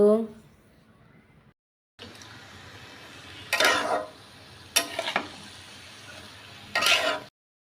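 Washed vegetables with turmeric and salt are stirred in a hot pan, bursts of sizzling and scraping coming in three short loud surges over a low hiss, with a voice talking at the start.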